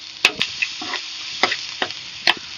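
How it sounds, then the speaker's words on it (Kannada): Grated raw mango stirred and frying in a pan for mango chitranna, with short scraping stir strokes and light sizzle bursts at an irregular rhythm, close and fairly loud. "ಮಾವಿನಕಾಯಿ ಹಾಕೊಂಡ್ಮೇಲೆ ಜಾಸ್ತಿ ಏನು ಬಾಡಿಸ್ಕೊಳೋದು ಬೇಡ, ಸುಮ್ಮನೆ ಫ್ರೈ ಮಾಡ್ಕೊಂಡು ಸ್ವಲ್ಪ ಸತಿ ಹಾಕಿದ್ರೆ ಸಾಕು"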